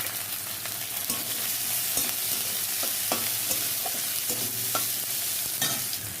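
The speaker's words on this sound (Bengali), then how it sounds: "এই যে রসুনটা ভাজা ভাজা হয়ে গেছে, এবার আমি পেঁয়াজ আর কাঁচা লঙ্কা দিয়ে দিলাম।" Chopped onion and green chilli fry with garlic in oil, giving a loud, continuous sizzle. A spatula scrapes and stirs the pan at irregular intervals.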